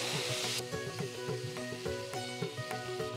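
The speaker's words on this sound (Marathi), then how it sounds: "आता सगळे टोमॅटो टाकू आपण ह्याच्यात" Chopped tomatoes go into a hot pan with ginger, turmeric, red chili and coriander-cumin powder for muthiya tomato curry, cutting an initial hiss that falls to a softer sizzle with light stirring clinks.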